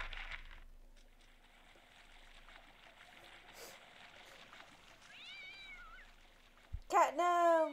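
A cat meows loudly near the end of a Postal 2 game session, with a rising, wavering cry that follows a quieter earlier mew over a low background hum.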